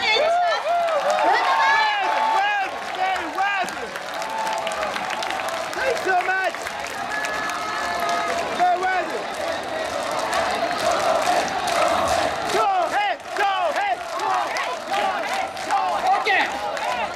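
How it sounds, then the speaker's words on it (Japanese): A large crowd applauds and cheers steadily for a long stretch, a dense wash of clapping with shouts rising through it, at an Oktoberfest finale in Osaka. "恭平君にもどうぞ大きな拍手を"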